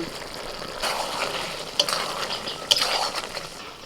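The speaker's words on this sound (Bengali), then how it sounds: "এবার এক চামচ ভাজা মশলা দিয়ে দিচ্ছি আর সাথে দিচ্ছি এক চামচ ঘি" Fried spice and a spoonful of ghee go into a hot pan of jackfruit and prawn curry, setting off a busy sizzle with stirring and two sharp metallic clinks of a spoon against the pan.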